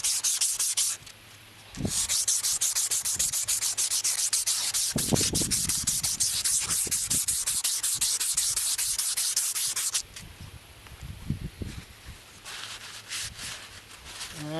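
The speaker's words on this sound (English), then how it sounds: "I'm just using 180 grit." Wood is sanded by hand with 180 grit sandpaper for a boat trailer repair, loud rasping strokes that run steadily and then stop in short breaks, with brief quieter gaps between passes.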